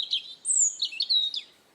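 A small bird gives a run of high, thin whistles and quick chirps, clear and close against near silence, a few bright phrases in under two seconds.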